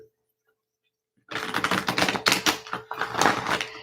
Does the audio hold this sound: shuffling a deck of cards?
yes